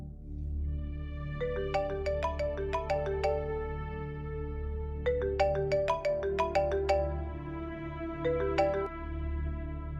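A mobile phone ringtone plays a bright, repeating melodic tune in three clear bursts over about ten seconds, loud and close against a low background hum.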